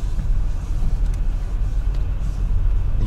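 Car pulling out of a parking lot at the Zeleny Ugol car market on a foggy day, with a steady low engine and road rumble up close, some wind buffeting on the microphone, and no talk.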